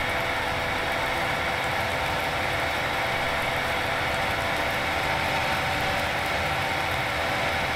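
Steady tractor engine droning under throttle in Farming Simulator 19, a loud continuous hum with no clear rise or fall and no voices over it.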